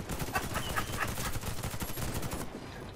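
Rapid automatic gunfire in the online shooter Warface, dense continuous bursts of shots at close range filling the whole stretch before easing slightly at the end.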